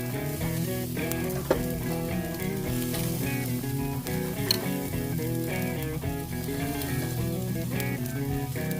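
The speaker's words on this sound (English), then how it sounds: "As you're flipping those steaks, rotate them 45 degrees for those classic grill marks." T-bone steaks sear on a Monument gas grill with a loud, continuous sizzle, steady and close, broken only by a couple of faint clicks.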